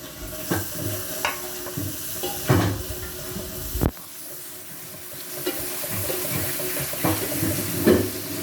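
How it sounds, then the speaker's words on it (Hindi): Chopped capsicum sizzling and frying in a hot pan while making gobi manchurian, with steady hiss broken by several stirring scrapes and clatters, no talking. "अब इस वक्त हम इसमें ये शिमला मिर्च ऐड करेंगे जो कि हमने पहले से काट के रखी हुई है"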